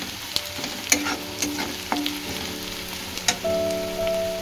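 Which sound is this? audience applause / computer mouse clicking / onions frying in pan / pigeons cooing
onions frying in pan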